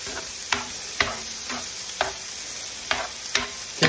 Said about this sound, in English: When you hit the fresh hot pan with something, and you get that brand new sizzle sound